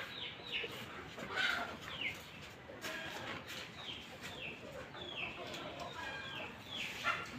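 Chickens on a village poultry farm clucking and calling in a steady scattered chorus, fairly faint and some distance off, against light outdoor background noise.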